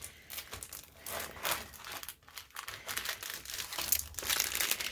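Small plastic bags holding diamond painting drills crinkle and rustle close up as they are unpacked, with irregular bursts of crackling handling noise and no talk.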